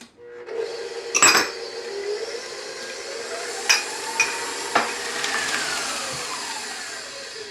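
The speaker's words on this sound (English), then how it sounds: "Okay, and I'm going to mix this up." A spoon mixes batter of lemon juice, lemon zest and egg in a bowl, giving close scraping and stirring strokes with a few sharp knocks against the side.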